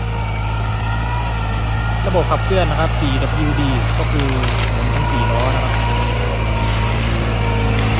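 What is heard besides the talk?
Kubota L4508 tractor engine running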